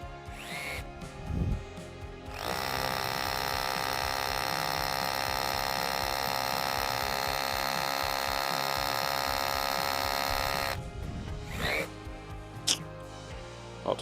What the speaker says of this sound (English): I'll just try the limestone first. This is the little Skill